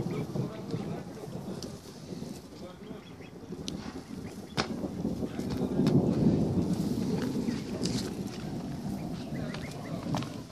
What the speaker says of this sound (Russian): О, слышите, как гром гремит?